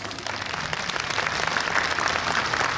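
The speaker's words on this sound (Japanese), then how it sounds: "改めまして大きな拍手をお願い申し上げます。" A crowd at a yosakoi dance festival during a cherry blossom celebration claps in a dense, steady round of applause that swells slightly toward the end.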